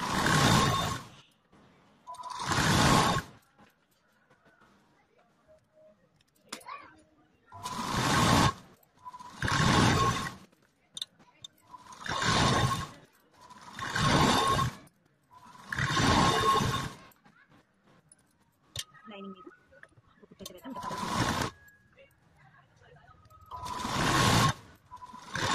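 A sewing machine stitches lining fabric for blouse sleeves in repeated loud bursts of rapid mechanical whirring, each lasting one to two seconds, separated by short quiet pauses while the cloth is adjusted. The machine is heard alone, with no speech.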